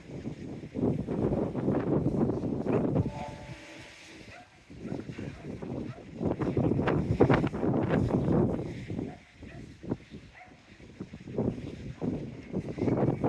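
Strong wind blasts across the microphone along the Teignmouth seawall on the seaside, roaring in loud, uneven gusts with a brief lull in the middle.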